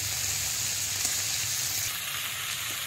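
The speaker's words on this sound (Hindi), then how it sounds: "टमाटर को भून लेंगे" Tomatoes fry in a hot pan for a traditional jimikand (suran) vegetable dish, giving a steady bright sizzle and hiss with faint low cooking rumble beneath, close and uninterrupted by speech.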